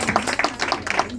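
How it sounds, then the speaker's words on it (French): Church congregation clapping to welcome a guest speaker, a short burst of close, uneven hand claps from a few people over a low steady hum. "Madame Antou Diakité avec vos acclamations."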